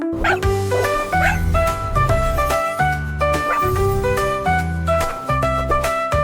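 A dog barks in short bursts over a steady, tuneful musical backing from a children's song that plays throughout.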